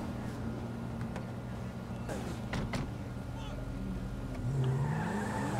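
Car driving in GTA V roleplay, a steady engine hum with a rising rev near the end, heard beneath a busy game soundscape.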